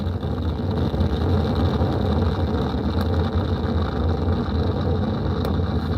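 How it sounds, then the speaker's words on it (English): The Artemis 1 rocket lifts off on its RS-25 core-stage engines and solid rocket boosters, heard as a steady, deep, rumbling roar that holds at a constant loudness throughout with no voices. "Boosters in ignition. And liftoff of Artemis 1."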